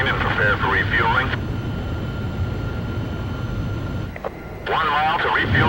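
A jet fighter in the combat flight game Ace Combat Zero flies toward an aerial refueling craft, its steady engine roar running throughout beneath radio voices that talk at the start and end.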